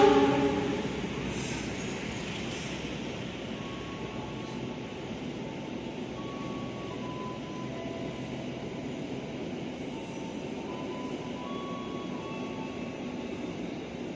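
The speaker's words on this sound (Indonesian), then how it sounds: "Satu Barat melintas langsung kereta api Bima." Bima passenger train running straight through Jatinegara station without stopping, a steady loud rumble of wheels and cars rolling past at close range, with faint squeals over the continuous roar.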